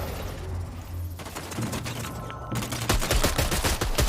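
Pistol gunfire in a fast-paced shooter video game, with sharp shots bursting out over a busy mix of game effects, getting denser and louder toward the end.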